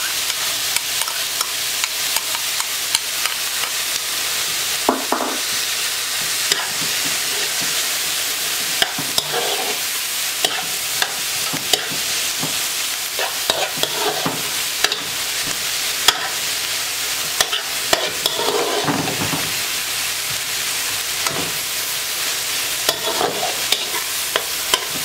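Cilantro stirred into meat and vegetables frying in a pot for Puerto Rican sancocho, with a steady background sizzle and repeated scraping stirs and clinks of the utensil throughout, close and alone.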